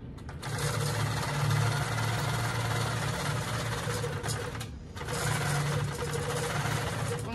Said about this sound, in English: so I can stitch that a quarter of an inch away from that edge